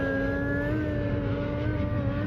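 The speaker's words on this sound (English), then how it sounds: "my brain has been trained to like hear these electric cars now" An electric car passes in San Diego with a steady, rising whir, close and fairly loud, sustained tones over low road rumble and no talk.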